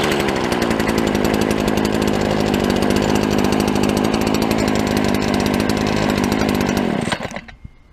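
A tuned-up Stihl 70 two-stroke trimmer engine runs steadily and loud up close, a continuous buzzing drone that cuts off abruptly near the end and winds down into quiet.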